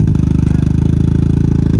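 A KTM motorcycle engine idles close by with a rapid, steady popping putter, loud and continuous throughout, with no voices over it.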